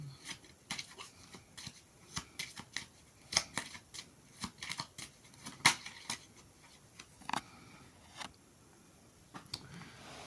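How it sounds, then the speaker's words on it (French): Tarot cards being handled and counted on a table, a run of crisp flicks, snaps and soft slides at an uneven pace, close and fairly quiet. "Je vais compter les cartes"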